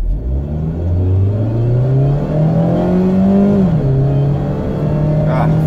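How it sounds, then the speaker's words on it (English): A Mazda Miata with an automatic transmission accelerates hard from a standstill in a 0 to 60 run, its engine note rising steadily, then dipping at a gear change before climbing again, loud and close from inside the cabin. "Let's do a little 0 to 60 run here."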